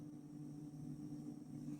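A faint, steady low hum of a refrigerator compressor motor, powered by a homemade solar-charged electric generator, drones on without change.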